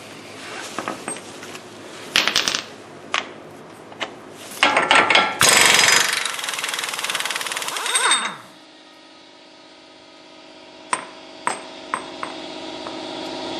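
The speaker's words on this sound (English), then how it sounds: "now what we're going to do is take your axle nut off" Front axle nut on a 2003 GMC Jimmy hub being taken off with a power impact tool: loud bursts of rattling hammering with metallic pings, then a quieter stretch of clicks and a few sharp taps.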